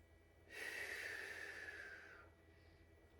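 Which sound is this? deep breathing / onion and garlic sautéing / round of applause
deep breathing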